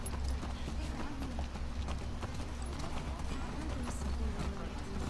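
A horse's hooves clip-clop steadily and fairly close in the video game The Last of Us Part II, a continuous walking rhythm over a low ambient background.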